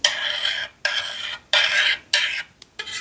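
A palette knife works acrylic paint across a canvas in four scraping strokes, each a dry, papery rasp lasting about half a second and separated by brief silences. The strokes are close and moderately loud, with no voices.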